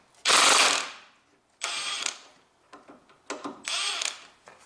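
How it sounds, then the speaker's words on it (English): An impact driver loosening the drive shaft bolts on a 2006–2022 Honda Civic: several loud, close rattling bursts, the first long and the later ones shorter and broken up, with brief silences between. "Now I install my impact driver."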